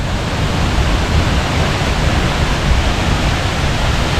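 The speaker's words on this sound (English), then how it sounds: "On the scale of the most epic waterfall, this is 10 out of 10." Lone Creek Falls, a large waterfall near Sabie, roars as a loud, steady, broadband rush of falling water, close and unbroken throughout, with no talking.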